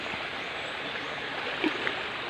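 Spring water flowing down from the mountain at a bathing spot, a steady, close, full rushing of the stream with a brief splash near the end.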